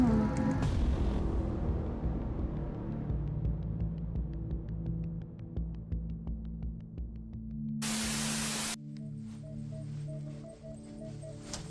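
MINEL metal detector sounding a steady signal tone in a forest, a sustained buzzing hum with a brief loud hiss burst partway through, close and fairly loud.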